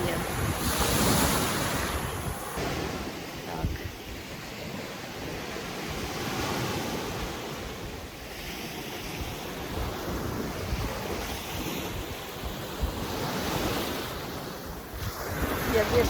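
Surf rolls and breaks continuously on a slightly stormy Black Sea beach at Karolino-Buhaz, with steady wind rumbling across the microphone throughout.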